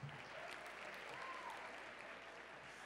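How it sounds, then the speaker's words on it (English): An audience gives a round of applause at a high-school pageant, a dense wash of many hands clapping steadily, soft and distant-sounding, with no voices on top. "round of applause for them"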